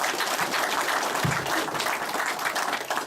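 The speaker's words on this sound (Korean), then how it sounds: "큰 박수로 맞아주시기 바랍니다" Crowd applause at a National Assembly member's legislative report meeting, a dense steady clatter of many hands clapping throughout, moderately loud.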